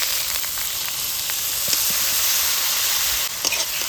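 Drained moong dal frying in hot oil with cumin and curry leaves, a loud, dense, continuous sizzle with a few faint stirring scrapes underneath.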